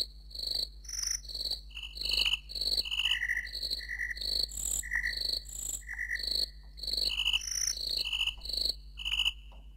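An Oberheim OB-8 synthesizer patch imitating crickets: rhythmic bursts of high, pulsing chirps repeat steadily over a low sustained hum, loud and close, with no voices.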